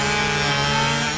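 Steady, continuous sawing through wood at a Woodruff lumberjack show, a short loud buzzing stretch with no talk.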